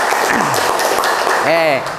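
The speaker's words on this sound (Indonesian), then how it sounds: "tepuk tangan untuk kita semua ya" An audience of automotive engineering students claps during a morning class session, the steady broadband applause running the full length under a voice that rises briefly near the end.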